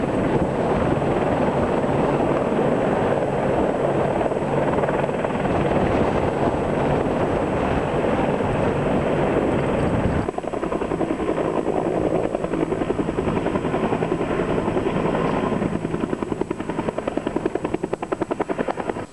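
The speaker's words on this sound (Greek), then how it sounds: "υποδεχτήκαμε σήμερα 5 Απάτσι επιθετικά ελικόπτερα και 3 Χιούι ελικόπτερα μεταφοράς προσωπικού" Five Apache attack helicopters and three Huey transport helicopters land at an airport, their rotors producing a loud, continuous thudding roar with wind buffeting the microphone throughout.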